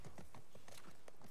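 Horse hooves clip-clopping in the video game The Last of Us Part 2, a quick steady run of hoofbeats, close and fairly loud, with no talk.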